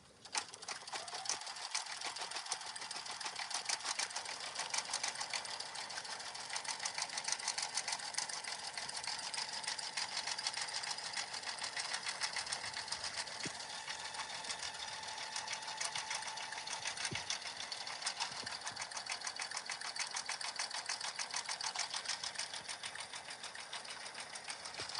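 A sewing machine stitches card cases and wallets in a continuous, even run of rapid needle clatter that carries on for the whole stretch at moderate, close range.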